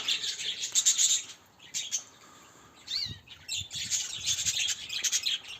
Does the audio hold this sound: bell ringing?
no